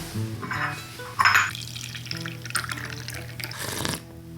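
Coffee drips from a full batch pour-over brewer, with the grounds bed dry on top: a few soft, irregular drips and small clinks, faint and close, with no talk.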